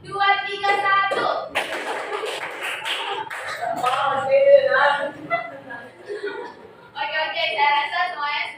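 Children clapping hands in a classroom clapping game, bursts of rhythmic claps alternating with a teacher's voice and chatter, loud and close with brief pauses between rounds.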